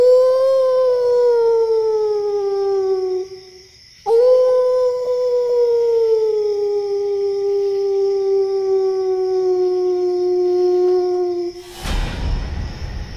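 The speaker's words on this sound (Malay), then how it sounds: "So malam tu kita dah biasa dengar bunyi anjing menyalak tu." A stray dog howls at night near an apartment estate in Buangkok. Two long, drawn-out, falling howls ring out loud and close, followed by a brief burst of rough noise.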